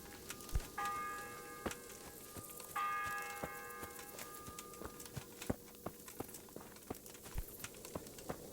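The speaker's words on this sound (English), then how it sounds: "Not really sure why they're ringing the bell in the middle of the night." Church bells ring out in the medieval game Kingdom Come Deliverance at night, two long resonant peals with lingering hum over a busy background of clopping and ticking footsteps, moderately distant and unaccompanied by talk.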